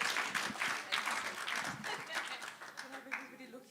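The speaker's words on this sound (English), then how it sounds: "can we just give some round of applause for Jada as well" Scattered applause from a poetry night audience, uneven claps that gradually thin out and fade, with a voice speaking faintly near the end.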